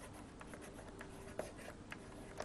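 Writing a definition on a classroom board, faint scratchy strokes with a few soft taps, heard at low level against a quiet room.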